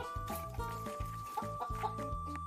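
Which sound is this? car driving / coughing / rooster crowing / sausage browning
rooster crowing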